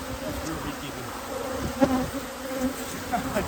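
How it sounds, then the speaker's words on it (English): Honey bees drone around a strong, healthy hive during a honey harvest, a dense steady buzz close by with a few individual bees passing nearer. "look how strong these bees are looking right here"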